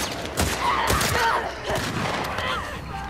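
A gun fires in the video game The Last of Us Part 2, with several loud, rapid shots and booming impacts amid game action.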